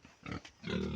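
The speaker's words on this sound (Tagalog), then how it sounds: "Meron akong dalawang baboy dito na gagawing inahin." Pigs being raised as breeding sows grunt and squeal briefly on a farm, a couple of short grunts followed by a louder, sustained squeal, close at hand.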